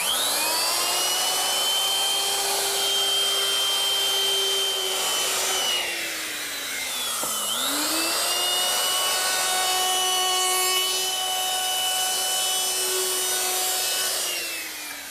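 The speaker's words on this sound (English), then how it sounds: "I want to round over all the edges using my router with a 1/4 inch rounding over bit" A router fitted with a 1/4 inch round-over bit routes the edges of wood pieces resting on a foam pad, a steady high whine that dips sharply in pitch as the bit bogs down in the cut, then climbs back and runs on.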